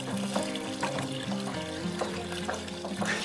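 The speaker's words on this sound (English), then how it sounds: "and mix it very slowly in vat 1" Liquid biopreparation is stirred slowly in a vat, giving close, continuous sloshing and swirling water sounds with soft rhythmic splashes.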